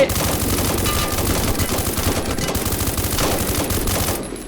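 Automatic weapons in the Roblox game fire in a dense, loud, sustained burst of rapid shots that barely pauses across the whole stretch.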